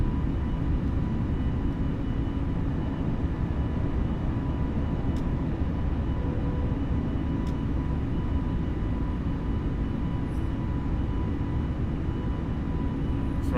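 Steady, loud broadband roar of an airliner's engines as it climbs out after takeoff from Quito, a continuous cabin rumble with faint clicks and no speech.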